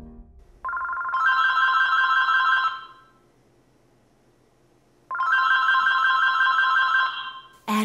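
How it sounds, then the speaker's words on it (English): A telephone rings in two long electronic bursts separated by a pause of a couple of seconds, loud and close, with no voices, on a Monday morning at home. "Phone rings."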